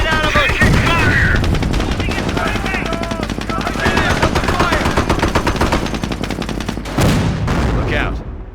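Heavy machine-gun bursts and rifle fire in a Company of Heroes World War II battle, a dense, loud, continuous clatter with explosions mixed in and a brief voice cutting through near the end.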